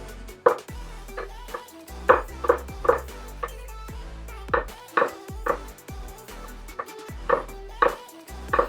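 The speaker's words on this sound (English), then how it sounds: "Okay, I'm just going to cut these up just a little bit." A knife cuts fresh peaches on a board, giving a series of crisp, uneven chops and taps that are close and fairly loud, with brief pauses between bursts and a voice talking now and then.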